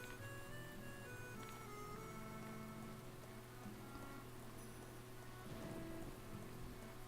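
Rain falls steadily in Atelier Sophie, a soft even hiss of drops on surfaces that stays low and constant, with a gentle musical tone drifting underneath and no speech.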